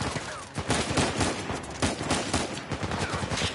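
Rapid pistol gunfire rattles through a shootout in the video game Uncharted 4, dense overlapping shots and impacts filling the whole stretch at a loud, steady level.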